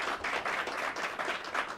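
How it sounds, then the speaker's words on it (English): Audience applause at a New York press conference, moderately faint and steady clapping from a small crowd, sustained through the whole stretch. "Let's give them a round of applause."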